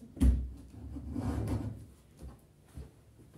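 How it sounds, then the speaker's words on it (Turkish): A door is pulled shut indoors: a sharp thud followed by a soft sliding rub and a couple of lighter knocks, close and fairly quiet, with no talking. "Kapıyı kapatayım."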